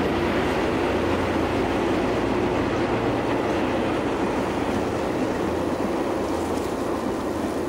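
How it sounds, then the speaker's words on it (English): A commuter train rolls past steadily at close range, a loud continuous rumble with rail noise lasting throughout, no voices. "Another commuter train."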